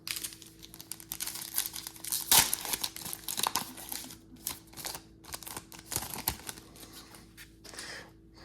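A foil pack of Optic trading cards being ripped open, close crinkling and tearing noises in irregular bursts with a sharp rip partway through, followed by softer rustling and card handling.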